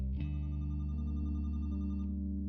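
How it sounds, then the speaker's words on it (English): A telephone rings in the video game The Roottrees are Dead, a steady electronic tone sustained for about two seconds after a sharp onset, loud and alone with no voices. "Oh! Is that the phone?"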